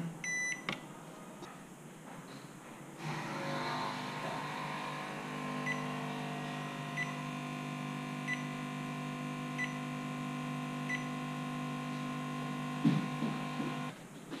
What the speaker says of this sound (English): Let's see what happens when I connect to the charger again. Then you can hear the beep.